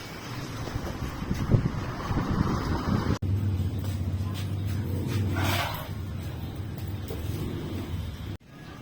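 Steady gusting wind buffets the microphone throughout, a continuous rough roar with a brief dropout partway through.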